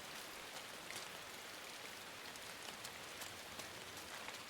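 Steady rain falling outside, a soft, even hiss of drops pattering on surfaces, faint and continuous with no talking.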